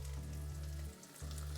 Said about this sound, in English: at the moment, the onions frying in that fat, collapsing in texture